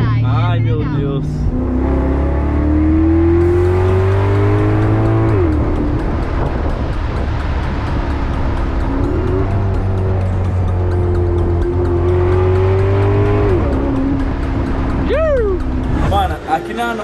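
A car accelerates hard, its engine loud and close, the pitch climbing and then dropping with each gear change over several pulls.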